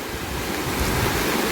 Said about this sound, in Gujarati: 12 થી 15 ફૂટ જેટલું પાણી અત્યારે જાય બહાટી